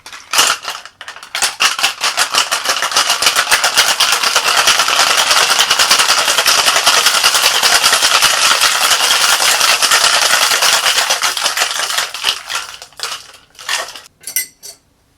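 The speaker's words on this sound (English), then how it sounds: "Then we get ice, which I have here ready. Let's give this a good shake." A cocktail shaker full of ice is shaken hard and fast for about eleven seconds, a loud, dense metallic rattle of cubes that tapers into a few scattered final shakes.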